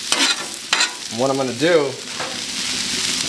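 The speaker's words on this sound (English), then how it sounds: "kind of going to let that cook through the vegetables onto the brisket." Leftover brisket and vegetables fry in a pan for a breakfast hash, giving a steady close sizzle that runs under brief talk.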